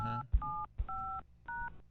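Touch-tone keypad beeps enter a voicemail passcode over a phone line, four short clear dual tones in a quick even sequence, close and distinct with no voices over them.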